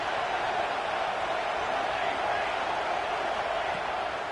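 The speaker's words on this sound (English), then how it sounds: "Here comes this home crowd as the defense tries to get off the field on 3rd down." Home crowd at a USC college football game roaring as the defense faces third down, a dense, loud, continuous wash of stadium noise without pause.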